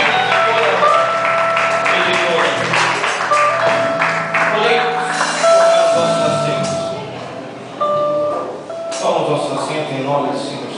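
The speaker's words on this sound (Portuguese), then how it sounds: "eu vou pedir para que dê uma salva de palmas bem forte" A church congregation claps hard at an evening worship service, dense clapping layered with music and sustained tones, with voices over it and a brief dip midway.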